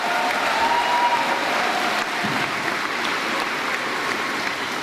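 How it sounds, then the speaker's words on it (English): Sustained audience applause at a high school graduation ceremony, a dense, steady wash of many hands clapping at full volume from start to finish with no talk over it. "Please give them all a well-deserved round of applause."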